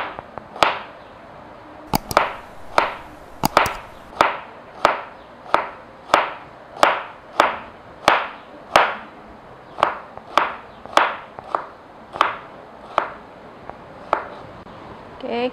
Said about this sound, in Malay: kemudian kita belah lepas tu kita potong halus